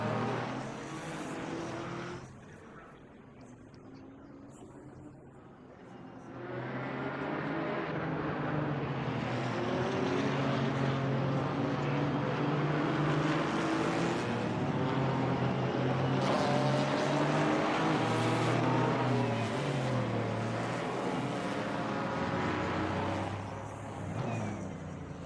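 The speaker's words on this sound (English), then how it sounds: "So here they come down to Wellington Straight then." GT4 race cars at Silverstone in a sim racing game, a dense blend of engine drones rising and falling as several cars sweep past, loud and continuous after a brief quieter start.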